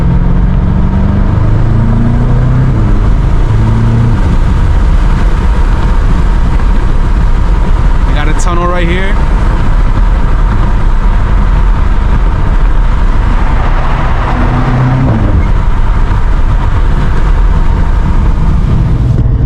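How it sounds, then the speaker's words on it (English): BMW M5 Competition V8 drones loud and steady from inside the car on a night highway cruise, a heavy low rumble with a brief whine and shifts in tone, as someone speaks briefly. "I love how this V8 sounds, man."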